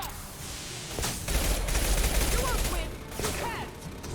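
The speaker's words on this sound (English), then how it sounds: "there is something shooting at me" Rapid bursts of sci-fi gunfire in Mass Effect Legendary Edition crackle in repeated volleys, with loud stretches and brief pauses, mixed with game effects and faint voices.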